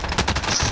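A rapid automatic burst from a Fara rifle in Call of Duty Warzone on Rebirth Island, with quick, evenly spaced shots. It is loud and close, with no talking over it.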